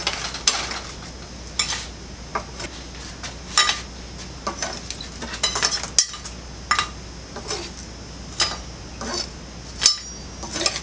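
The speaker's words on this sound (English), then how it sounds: "let's put these on a platter" Metal utensils clink and scrape against a platter as cooked food is moved onto it, with irregular taps and knocks spaced through the clip and no talking.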